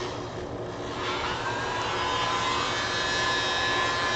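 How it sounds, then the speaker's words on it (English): Air blower hissing steadily across wet paint on a lotus pond pour painting, a continuous broadband rush that swells slightly and holds, close and alone with no talk. "Let's see if we can use the other blower for that"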